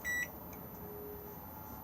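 A single short, clear electronic beep from a standard microwave oven with quick start and defrost controls, inside an Xplore 554 SE motorhome, followed by quiet room hum.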